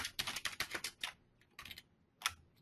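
Rapid typing on a computer keyboard, a dense run of close clicks at the start, then pauses broken by shorter bursts and a single louder keystroke, with no voices.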